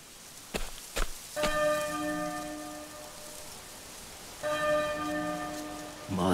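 A clear bell chime in Octopath Traveler II rings out with a long shimmering decay, then rings again a few seconds later, preceded by a couple of soft knocks.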